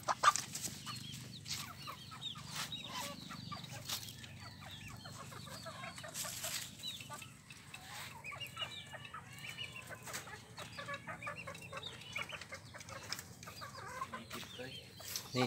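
Native chickens cluck and squawk, set against each other to fight, with scattered calls over a low background murmur, fairly faint and continuous.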